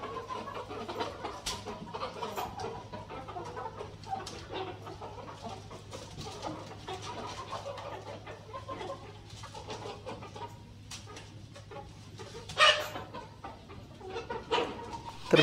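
Hens and chicks on a home poultry yard cluck and murmur while being shut into large and small baskets for the night, a steady close chorus of soft clucks with a louder squawk near the end.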